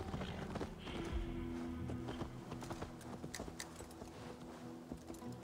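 Horse hooves clip-clopping in Assassin's Creed Valhalla, a brisk run of close, irregular hoofbeats over a busy game background, with no talk.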